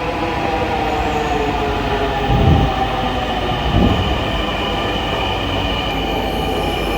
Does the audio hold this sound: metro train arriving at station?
yes